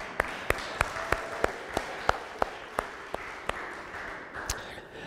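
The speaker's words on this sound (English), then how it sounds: "I've never wanted to clap after a scripture reading." A congregation gives slow, evenly spaced claps after a scripture reading, about a dozen distinct claps in a steady rhythm, fairly faint, over a soft room hiss.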